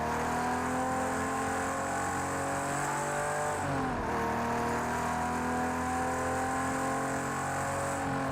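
Ferrari 250 Testa Rossa racing in Project Cars 2, its engine droning steadily with harmonic tones that dip briefly as it lifts off under braking, then climb again in a continuous loud run with no voices.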